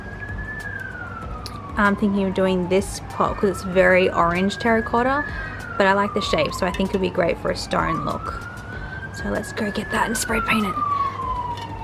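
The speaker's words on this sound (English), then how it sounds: "You can hear an alarm in the background." A wailing emergency siren rises and falls steadily through the background, faint and continuous beneath someone talking close up indoors.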